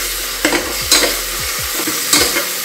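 Garlic and ginger paste fried in hot oil for Punjabi-style rajma, crackling with a close, steady sizzle while a spoon scrapes and stirs the pan in a few sharp strokes.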